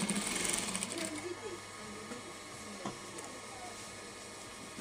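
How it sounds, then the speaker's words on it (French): Sewing machine stitching the shoulder seams of a shirt, a quiet, fast mechanical whir that runs continuously, loudest at the start, with a voice speaking faintly in the background. "Donc là, je vais coudre les épaules."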